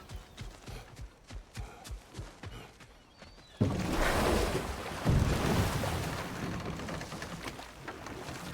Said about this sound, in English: Waterfalls. We're close.